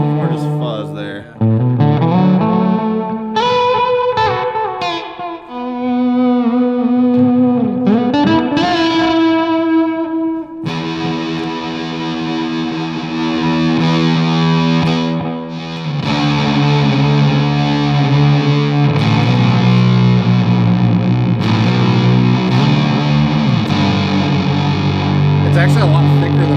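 A guitar run through a Beetronics Quadular pedal on its white setting gives a thick, loud fuzz tone, with chords and single notes ringing densely and continuously.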